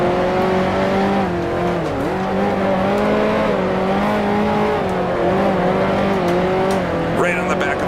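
A 1955 Formula One race car in Grand Prix Legends drones steadily through a long braking zone, its engine pitch wavering and dipping, with brief tire squeal near the end and a voice talking over it.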